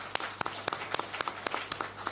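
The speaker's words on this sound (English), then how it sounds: "kindly give a big round of applause for our panelists." Scattered clapping from a small audience at a panel discussion on Indian foreign policy, applauding the panelists; distinct individual claps in an uneven rhythm, fairly faint and thin rather than a full ovation.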